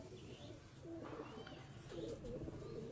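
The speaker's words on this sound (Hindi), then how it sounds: "बड़े अच्छे सियालकोटी कबूतर हैं" Soft, low cooing from Sialkoti pigeons repeats a few times, faint and close, over a quiet hum of background noise.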